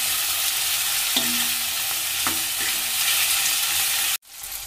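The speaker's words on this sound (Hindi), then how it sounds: "अब हमें अच्छे से टमाटर डाल के टमाटर को भी भून लेंगे" Chopped tomatoes fry in oil in a pan for palak paneer, giving a steady close sizzle with a few stirring scrapes of a spoon, no talk, before a sudden cut.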